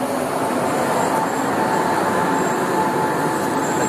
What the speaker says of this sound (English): Pretty sure I am at the metro rail